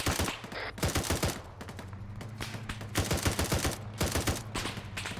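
Dense gunfire in ArmA during a military simulation firefight, rapid bursts and overlapping shots in quick rhythm, close and loud over a low vehicle engine drone.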